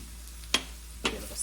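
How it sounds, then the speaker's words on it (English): A spoon stirs flour into sizzling vegetables in a pan for elk stroganoff, giving two short scraping strokes over a steady low frying hiss. "Give it a stir."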